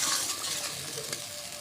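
Spice paste sautéing in a pan: a steady, close frying sizzle with light stirring scrapes throughout, no voices.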